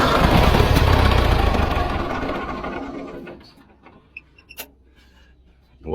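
A restored old diesel engine chugs loudly and steadily for a few seconds, then winds down and dies out, leaving a few faint clicks and knocks in near silence.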